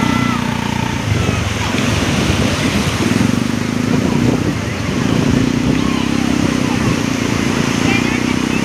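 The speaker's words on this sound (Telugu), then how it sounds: "అలలు చూడండి ఎలా వస్తుంది." Waves break loudly and steadily at Suryalanka beach amid wind noise, with a low engine-like hum running through and people talking nearby.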